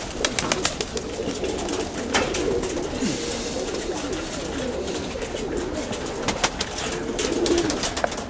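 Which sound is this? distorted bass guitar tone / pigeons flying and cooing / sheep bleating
pigeons flying and cooing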